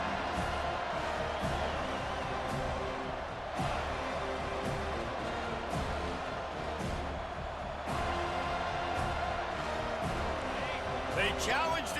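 Stadium crowd noise from EA Sports College Football 25, a steady, moderately loud roar of cheering fans that continues throughout with some thumping impacts, under game commentary.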